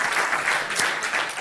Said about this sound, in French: Il s'appelle Cédric, on l'applaudit bien fort